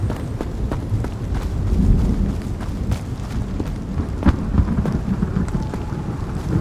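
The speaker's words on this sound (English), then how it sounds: "the thunder is so loud" Loud rolling thunder in the video game Road to Vostok, a deep continuous rumble with sharp cracks over steady rain, close and heavy throughout.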